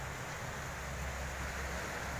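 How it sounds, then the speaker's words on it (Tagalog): Sea waves washing continuously onto the shore at a fishing spot in Tanza, steady broadband surf with low rumble and some wind, no voices. "Medyo malakas ang alon."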